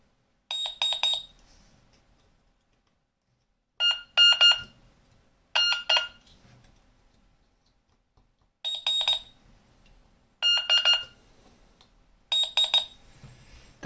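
Short bursts of high electronic beeping from a continuity tester probing a chip on a C64 cartridge, mostly in pairs, separated by several seconds of near silence.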